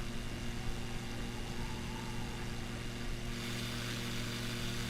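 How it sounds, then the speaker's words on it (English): Steady broadband wind noise buffeting an Icon A5 light sport amphibian in flight over Arizona, mixed with the constant drone of its propeller engine, loud and continuous throughout with a brief rise in hiss near the end. "Oh, you can hear the wind now."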